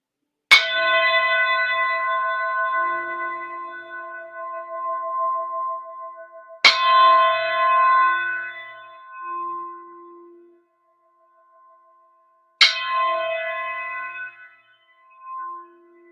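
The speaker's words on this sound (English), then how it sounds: "I'm going to ring the singing bowl 3 times to start" A singing bowl is struck three times at even intervals. Each strike gives a bright metallic onset and a long ringing tone that slowly fades, with silence before the next.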